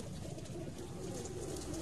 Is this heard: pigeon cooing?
yes